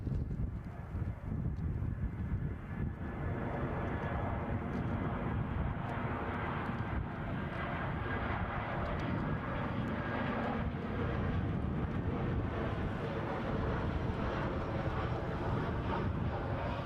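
A Brussels Airlines Airbus A319 jet at Edinburgh Airport, a continuous broadband engine rumble and rush with some wind buffeting on the microphone, steady and fairly close, without talk.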